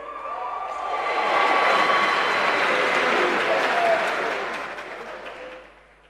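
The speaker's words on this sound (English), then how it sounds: "Give him a round of applause, please." Audience applause and cheering at a hip hop music awards show swells quickly, holds loud and full for several seconds, then fades away, with voices faintly mixed in.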